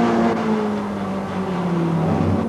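Touring cars at a 1988 British Touring Car Championship race, including a left-hand drive BMW, approach a hairpin with a sustained mix of engine drones shifting in pitch, fairly loud and blended together, with no talk.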